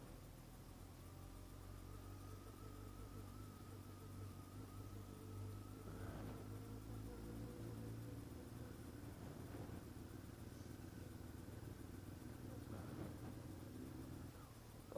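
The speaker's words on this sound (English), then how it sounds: "I'll still be able to get the nice little exhaust sound that I like" A car driving through Gibraltar gives a steady, low exhaust drone with road rumble, faint and continuous throughout, with no voices.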